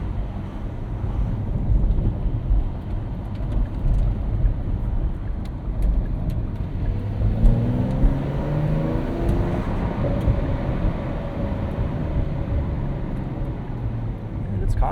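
A 2025 Porsche 911 Carrera T 992.2 with a 6-speed manual drives through tight streets, its engine a low continuous drone with a rising gear pull midway, under heavy wind rush and someone talking.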